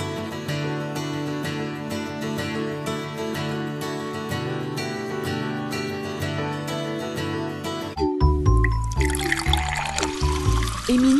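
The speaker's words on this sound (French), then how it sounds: "Elle se sert un grand verre d'eau." Water runs from a tap into a drinking glass as a steady trickling pour under light background music. A brighter, splashier gush follows near the end as the glass fills.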